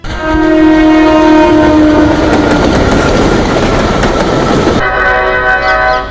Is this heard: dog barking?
no